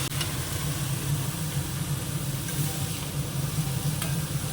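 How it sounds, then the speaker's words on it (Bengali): Food frying in a pan in a home kitchen while being stirred, a steady close sizzle with an even hiss throughout and occasional scrapes, no talking. "এই যে সুন্দর করে এটা ভাজা হয়ে গেছে"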